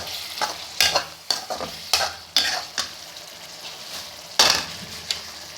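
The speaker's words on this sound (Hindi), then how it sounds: "तो मैं चिकन कढ़ाई बना रही थी।" Chicken karahi sizzles in a pan while a utensil stirs and scrapes it in irregular, sharp strokes, close and fairly loud over a constant frying hiss, no talking.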